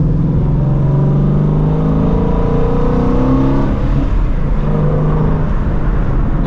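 Engine note of a 2016 Shelby GT350 heard from inside while driving, a steady loud low rumble with rising and falling harmonic tones as the car works through gears and revs, with no talking.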